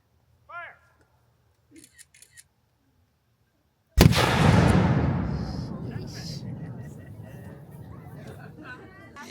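A ceremonial cannon fires a single loud salute at a battlefield commemoration, a sharp blast followed by a long rolling echo, after brief faint voices.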